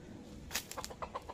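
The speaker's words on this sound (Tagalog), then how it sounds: "Ayan yung aming tandang" A rooster gives a short series of soft, quick clucks, a few faint rhythmic calls close by, with no speech.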